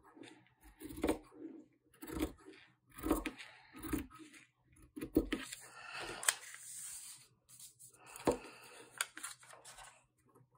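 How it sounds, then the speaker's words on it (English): Scissors cut fabric along a pattern in a series of close, crisp snips and crunches, spaced irregularly with short pauses between cuts, fairly quiet. "I'm going to cut the fabric along this pattern"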